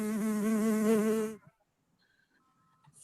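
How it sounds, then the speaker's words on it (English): A fly buzzes close and loud in a steady, wavering drone for over a second, then cuts off, leaving near silence with only faint small sounds afterward. "A buzzing fly."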